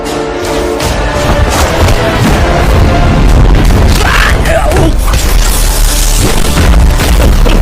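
Loud, continuous barrage of firecrackers exploding close by, booms and sharp bangs overlapping into a thundering roar.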